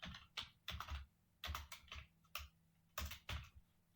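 Bursts of typing on a computer keyboard, clustered keystrokes in quick irregular runs with short pauses between, close and fairly quiet, no voices.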